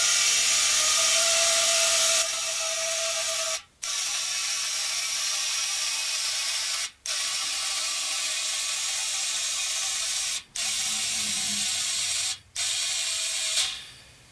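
PowerTank CO2 air system filling a tire from 5 to 25 psi: a loud, steady hissing rush of gas, briefly cut off four times by short pauses, then tapering at the end.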